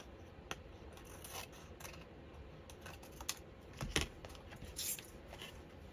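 Scissors snip through fabric scraps during a quilting session, a few faint, sparse cuts and clicks spread across a quiet background.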